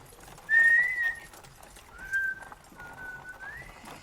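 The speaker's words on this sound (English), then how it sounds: "That whistling is awful cheerful, I suppose." A tuneful whistle carries a bright, cheerful melody in three short phrases with pauses between them, moderately faint over light background noise.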